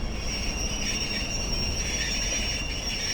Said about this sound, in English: we've got to stop here, I imagine, to let a train pass